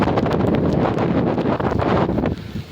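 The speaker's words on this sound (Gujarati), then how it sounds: "જોવો ભાઈ પવન એ બહુ આવે છે" Strong wind during rain buffets the microphone in loud, continuous gusts with a rough rustling texture, easing slightly near the end; no voices.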